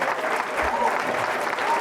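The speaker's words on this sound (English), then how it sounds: "Big round of applause for everybody that got awards." Steady crowd clapping at a chamber of commerce awards evening, continuous and moderately loud, with a faint murmur of voices underneath.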